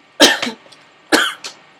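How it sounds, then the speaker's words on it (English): Two loud, close coughing fits, each a sharp double cough, come about a second apart, with quiet between them. "Sorry, coughing."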